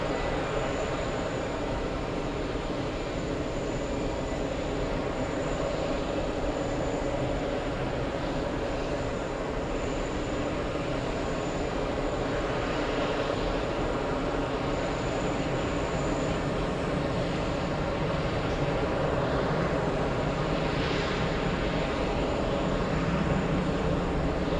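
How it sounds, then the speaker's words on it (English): An airliner at JFK airport roars steadily on its takeoff run, a continuous loud broadband engine rumble that holds for the whole stretch with no talking. "I kind of want to stay with the takeoff."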